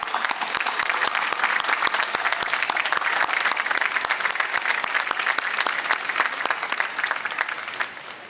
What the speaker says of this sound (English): ask you to join me in applauding them